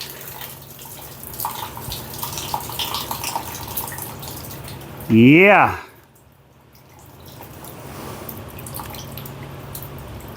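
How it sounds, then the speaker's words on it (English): Rusty water drips and trickles out of an old Briggs & Stratton engine in a close, steady patter; a man briefly exclaims and speaks nearby. "All that water in that engine."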